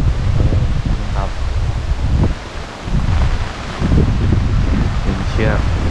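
Wind gusting through trees at a forest tent campsite in Khao Yai National Park, Thailand, with rain starting; a steady, loud broadband rush with rustling swells, continuous throughout, and faint voice-like sounds within it.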